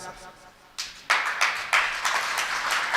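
An audience at a Jain religious sermon breaks into clapping that starts abruptly partway through, building into steady, fairly close applause from a crowd, with a voice briefly audible before it begins.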